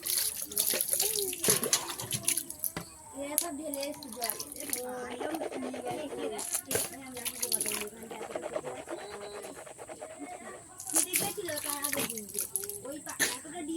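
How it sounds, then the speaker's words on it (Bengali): Water runs and splashes as something is washed with one hand, an uneven trickling and sloshing close by, with a person talking over much of it. "দেখো এখন ধুচ্ছি এক হাত দিয়ে"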